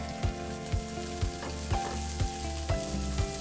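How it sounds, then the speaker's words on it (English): Fish fillet sizzling presentation side down in a hot pan with garlic, a steady close frying hiss and crackle with soft periodic bumps from the pan, no voices. "we always wanna listen for the sizzle with the presentation side down"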